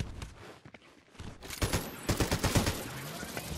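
Rapid gunfire from a weapon in the video game Fortnite, a burst of shots in the second half following quieter footsteps and movement, fairly close and moderately loud.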